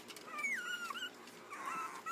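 A puppy whimpers in thin, high, wavering whines, close and soft, with a short pause between two plaintive cries.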